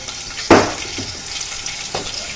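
Crushed onions dropped into a hot pan for fish katakat, a sharp splash-hiss on impact followed by steady sizzling and a couple of softer stirring clatters.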